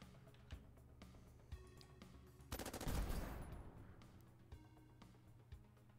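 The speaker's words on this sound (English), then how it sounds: "It sounds like he's shooting at me" Automatic gunfire in the Bionic Dues video game, a loud dense burst about midway with scattered single shots and clicks around it, the volume tailing off afterward.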